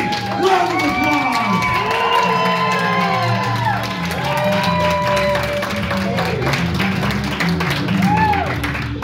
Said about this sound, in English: Can we give Miss Muerta a big round of applause?